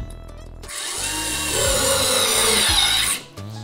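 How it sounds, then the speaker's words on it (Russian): A WORX WX240 cordless screwdriver drives a small screw into wood, its motor whirring for nearly three seconds between brief clicks at the start and end, close and alone. "Но что покажет аккумуляторная отвертка?"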